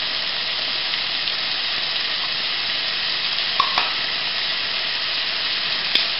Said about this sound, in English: See, look, the tomato water is boiling now.